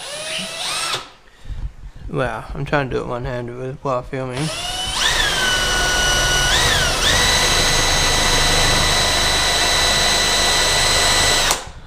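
A power drill whines at high speed, sustained and loud, after a few quick bursts and someone speaking briefly at the start.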